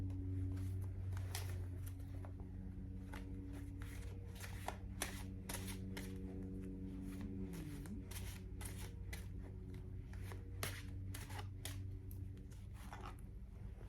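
Tarot cards are shuffled over and over before a pull, giving a run of crisp, close riffling snaps and slides over a low steady hum, with no talking.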